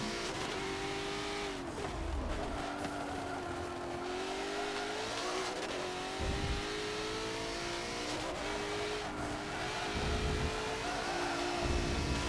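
McLaren race car in Forza 7 with its engine revving and shifting through gears, a steady loud drone rising and falling in pitch with repeated upshifts, alone with no talk.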